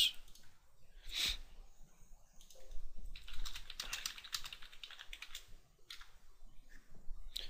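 Someone typing a quick note on a computer keyboard during an online poker cash game session: bursts of soft, close key clicks with short pauses between them and no speech.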